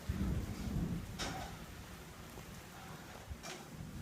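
During a severe thunderstorm, a low rumble of thunder rolls under steady rain, with a couple of faint sharp cracks breaking through.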